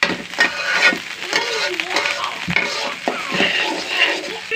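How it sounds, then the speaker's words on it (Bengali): Fried rice frying in a pan at an outdoor picnic, with a steady loud sizzle broken by repeated scraping and clattering stirs of a utensil against the metal. "এই দেখেন ভাজা ভাজা করছি।"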